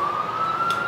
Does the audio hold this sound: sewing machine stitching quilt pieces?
no